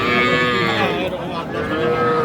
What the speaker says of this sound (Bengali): এটাও ষাঁড় বাচ্চা